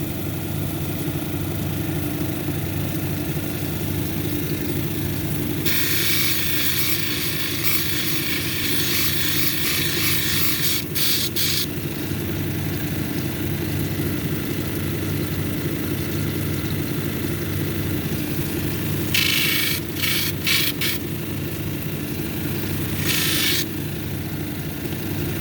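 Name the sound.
lapidary grinding machine shaping mahogany obsidian cabochon, 280 grit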